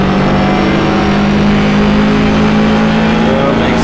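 Double decker bus engine in Assetto Corsa, a loud, dense, steady roar that climbs through gears, saturated and continuous throughout.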